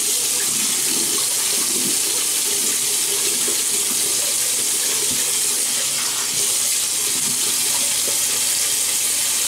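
Water runs steadily from a bathroom tap into a sink as a face is wetted before shaving, a continuous close splashing hiss with no talk.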